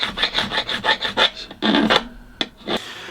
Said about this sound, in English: I like to do it away from me or away from the middle of the fret so I don't catch the end of the fret with the file at all.